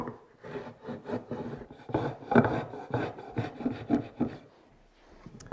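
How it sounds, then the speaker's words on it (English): A marking tool scribes lines 3 inches in from the reference edge along all four edges of a wooden board for a hand-tool cutting board, giving a series of close, scratchy rasping strokes in an uneven rhythm. "scribing on all four edges 3 inches from my reference edge"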